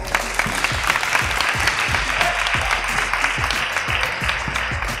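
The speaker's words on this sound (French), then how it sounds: "est-ce qu'on peut leur faire un tonnerre d'applaudissements?" A room of people applauds authors at a basketball book fair, dense hand clapping close by, steady and lively for several seconds.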